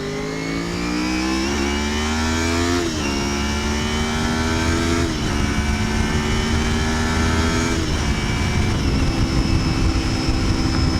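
A 1987 Honda VFR400R NC24 motorcycle accelerates hard through several gears, its high-pitched engine note climbing steadily then dropping at each shift, loud and close throughout with no talking.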